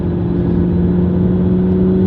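Steady, loud engine drone and road noise from inside a McLaren 12C sports car being driven smoothly, a constant mid-range hum with no breaks or revving peaks.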